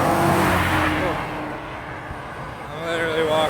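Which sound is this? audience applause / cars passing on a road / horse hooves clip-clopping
cars passing on a road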